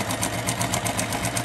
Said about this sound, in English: So come on over to the sewing machine with me and we will sew the diagonal on these 4 blocks.